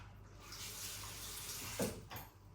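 Water pours and splashes steadily into a container nearby for soaking dried fish, with a brief louder splash near the end.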